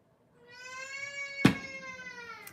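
A cat lets out a single drawn-out, wavering meow that rises and then tails off. A sharp knock or thump lands midway through and a fainter click comes near the end.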